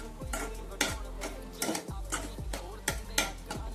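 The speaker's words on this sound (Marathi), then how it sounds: "एक 5 ते 7 मिनिटे याला सारखं आपण हलवत राहणार आहोत।" Egg bhurji is stirred in an oiled pan with a spatula scraping and clinking in a quick, regular rhythm, each stroke a sharp close knock over a faint sizzle.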